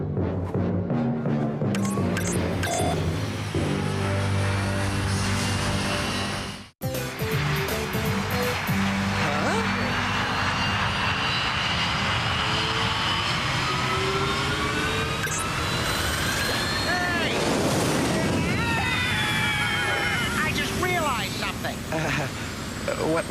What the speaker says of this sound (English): does this jet engine have the proper internal construction?